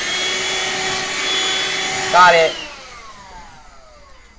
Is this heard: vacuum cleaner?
yes